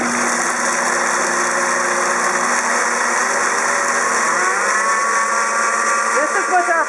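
An Ankarsrum Assistent blender running flat out while pureeing garlic and chickpeas gives a loud, steady motor roar that holds constant, with a slight pitch change near the end.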